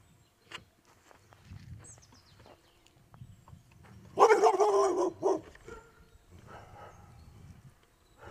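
A Belgian Malinois barks in a short loud burst of several close, harsh barks amid quieter outdoor rustling and footsteps.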